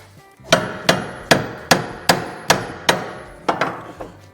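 A hammer taps a ball joint down on a 1998-2011 Ford Ranger: nine sharp metallic strikes at a steady, roughly half-second rhythm, loud and close with no talking.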